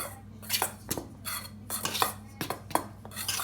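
Cake batter with cocoa and baking powder being mixed in a bowl, heard as a series of close clinks and scrapes of a utensil against the bowl in an uneven rhythm, with no talk.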